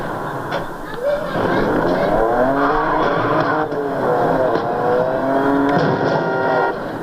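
Racing car engine from the video game Need for Speed: Most Wanted revving and climbing through gears, loud and continuous, with rising and falling whines.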